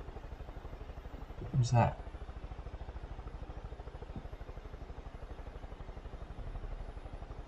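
A helicopter in the video game Far Cry 5 drones steadily with a rapid rotor chop, heard quietly and continuously while someone briefly speaks.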